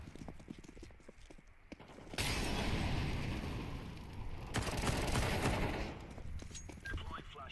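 Sustained burst of video game gunfire from a team shooter match, loud and dense from about two seconds on, with a softer clattering stretch before it. Voices from the game occur around it.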